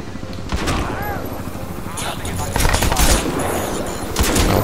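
Gunfire in the shooter game Crysis 2, loud overlapping shots and rapid bursts with a continuous dense battle din, heavier volleys near the middle and end.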